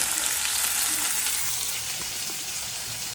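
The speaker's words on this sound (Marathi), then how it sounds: "तेल आणि त्या तेलात टाकतो मी कांदा" Onion frying in hot oil with whole spices in a home kitchen: a loud, steady, close sizzle and hiss that holds without a break.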